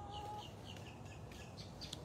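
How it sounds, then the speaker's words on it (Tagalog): Chickens on a backyard farm cluck and chirp faintly in short scattered calls over steady low background noise. "yung mga manok natin"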